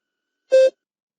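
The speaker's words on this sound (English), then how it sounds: "Begin speaking after the beep." A single short electronic beep, steady and clear, lasting about a fifth of a second amid silence.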